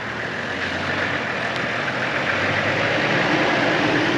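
An off-road 4x4 truck pushing through deep mud, its engine a steady, loud, close rumble that holds without a break.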